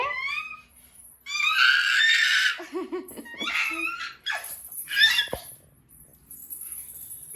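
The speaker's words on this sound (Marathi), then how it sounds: "इतकी एन्जॉय करते, इतकी ओरडते ना" A little girl on holiday with her grandmother shrieks with delight in several loud, high bursts. Short pauses and giggly squeals separate the bursts, and the sound is close and clear, with no talking.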